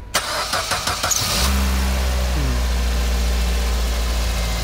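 A Suzuki SX4 car engine cranks in a brief series of rapid starter pulses, catches, and settles into a steady, close, loud idle hum with a slight shift in tone partway through.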